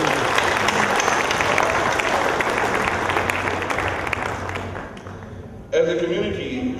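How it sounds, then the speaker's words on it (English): Applause from a community audience at a book launch rolls on as a steady wash of clapping, then dies away as a speaker begins talking close to the microphone. "Let us all put our hands together and give her a big round of applause"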